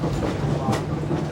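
Passenger train running on rails in Alaska, a steady rumbling roll with a brief brighter rattle midway, heard from onboard as a continuous close noise.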